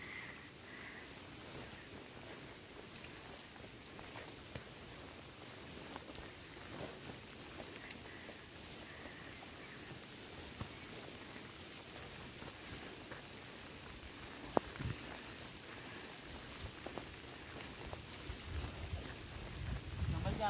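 Steady rain on a fort trek near Karjat, Maharashtra, a faint wide hiss with scattered drops and a low rumble building toward the end.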